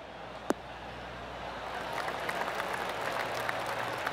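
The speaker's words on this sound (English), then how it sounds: "That deserves a golf clap." Polite golf clap applause from a virtual gallery in a golf video game, a soft spread of scattered claps building slightly after a sharp click, steady and moderately distant.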